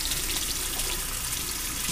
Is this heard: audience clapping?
no